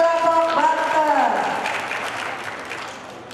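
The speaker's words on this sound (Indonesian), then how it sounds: "Tepuk tangan untuk kelompok Banten." An audience claps for the Banten team at a national legal-awareness quiz final. The applause is steady and fades gradually over a few seconds, with voices and a tonal sound audible at the start.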